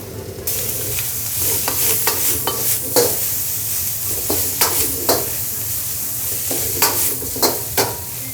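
Green onion, ginger, chili, onion, cabbage and carrot stir-frying in a hot wok for jjamppong, a steady sizzle with repeated scraping and tossing clatters from a utensil, close and fairly loud.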